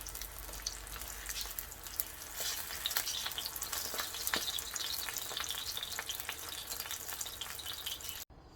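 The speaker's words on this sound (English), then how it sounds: "This one is a little thicker, so I'm gonna let it fry a little more." A thick slice of eggplant fries in oil with a steady, close bubbling sizzle and fine popping crackles. It runs evenly for several seconds and cuts off abruptly at the end.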